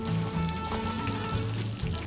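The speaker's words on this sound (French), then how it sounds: "ASMR des guimauves." Marshmallows and butter melting in a pot on the stove, giving a steady soft sizzle with faint bubbling, heard close up and without talk.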